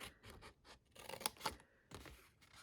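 Scissors snip card down to a score line in a series of quiet, close, crisp cuts, about a dozen small snips with no voice present.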